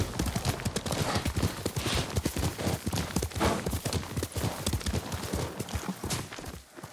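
Horse hooves clip-clop steadily on the ground in the samurai video game Ghost of Tsushima, a brisk, evenly paced walking rhythm that stays close and clear before easing off at the end.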